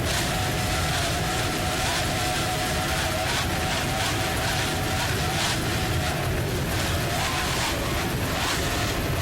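A 32-foot Skater offshore racing powerboat at the Miami Offshore Grand Prix roars at full throttle, a loud continuous engine drone with wind and water rush and slight surging, no talk.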